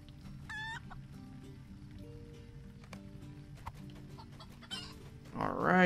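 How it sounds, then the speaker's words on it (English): Chickens cluck in the Lord of the Rings Online video game, with short clucks over a steady background of game ambience and a louder burst near the end. "Alright, let's grab a couple of these chickens here."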